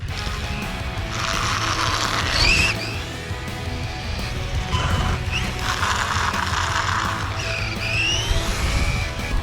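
A Losi ProMoto MX RC motocross bike runs in bursts, its small electric motor whining up and down in pitch with throttle changes, fairly close and without talk.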